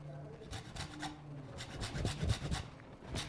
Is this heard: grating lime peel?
yes